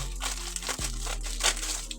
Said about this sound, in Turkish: Bir dakika şuradan yırtarsam makasla kesiyorum.